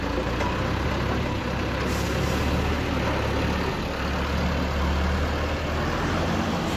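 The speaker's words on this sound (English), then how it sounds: "That's a truck which can hold 14 tons of weight, and that just went over our brakes." A 14-ton truck rolls over earth blocks, its heavy engine rumbling low and steady throughout with a broad, continuous road-noise wash and no talking.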